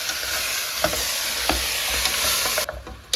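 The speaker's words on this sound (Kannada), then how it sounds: "2-3 ಟೇಬಲ್ ಸ್ಪೂನ್ ಎಣ್ಣೆಯನ್ನು ಹಾಕ್ಕೊಂಡು ಮಟನ್ನನ್ನು ಬೇಯಿಸ್ಕೋಬೇಕು" Mutton frying in a few tablespoons of oil with onions for biryani, a loud, steady close sizzle with occasional stirring clanks, cutting out briefly near the end.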